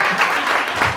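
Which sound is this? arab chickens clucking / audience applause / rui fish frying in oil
audience applause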